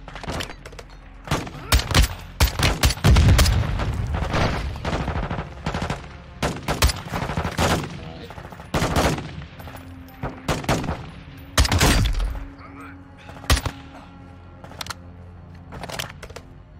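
Gunfire in the Modern Warfare 2 Prison Break mission, with loud, sharp rifle shots coming in quick bursts and single cracks, spread unevenly through the stretch.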